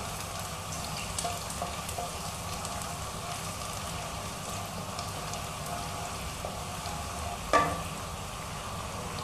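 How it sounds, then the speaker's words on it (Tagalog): Garlic sautéing in a hot pan gives a steady, soft sizzle with faint scraping of a utensil and one sharp clink near the end, no voices. "Ngayon naman ay mag-igisa na tayo. Unahin natin ang bawang."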